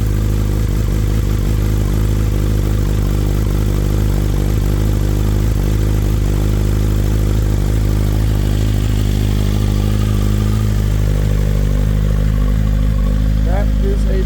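A carbon fiber black BMW S 1000 RR motorcycle engine on a cold start, holding a loud, steady idle with a deep rumble and mechanical clatter close by, and a brief voice near the end.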